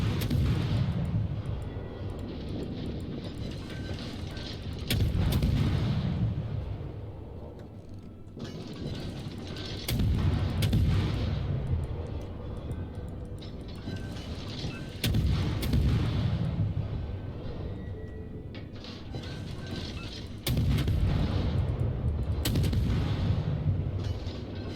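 Heavy naval gun salvos boom in World of Warships, a mid-tier destroyer battle, with loud low blasts recurring roughly every five seconds over a constant rumble of battle noise.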